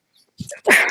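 A single sharp sneeze bursts out close by, preceded by a brief soft intake of breath, with no talk around it.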